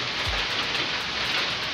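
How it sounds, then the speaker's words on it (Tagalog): Heavy rain pours steadily outdoors during a midtoss match at Culasi, a dense, even hiss of falling drops with no pauses, close and loud throughout. "Ayun o, umuulan yan."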